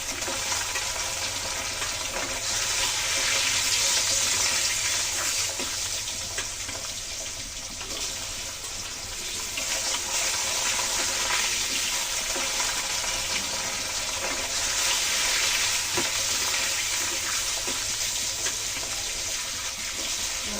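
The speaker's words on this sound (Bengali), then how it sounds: "তোমরা এদিকে দেখুন আমি কড়াইতে আবার তেল দিয়েছি, তেল গরম হয়ে গেছে। এখন মাছগুলো দিয়ে দেবো।" Steady sizzling and crackling of rohu fish frying in hot oil in a kadai, continuous and fairly close, with no talking.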